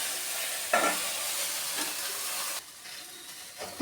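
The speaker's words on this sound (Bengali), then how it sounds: "এবার আমি একটু ঢাকা দিয়ে ভেজে নেব।" Chopped okra frying in oil in a pan, a steady bright sizzle with a few stirring scrapes. The hiss drops abruptly partway through.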